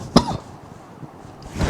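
A single sharp cough from a man, close and fairly loud, followed by a short pause and a faint throat-clearing sound at the end.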